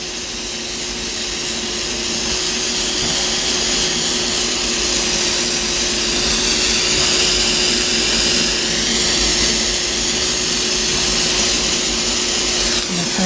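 A torch flame roars steadily as it heats a metal pendant from underneath, a loud continuous hiss holding for the full stretch with no talk over it.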